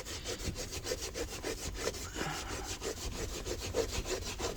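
Old sticky tape is peeled and rubbed off a window sill in quick, steady back-and-forth scrubbing strokes, close and fairly quiet, with no voice over it.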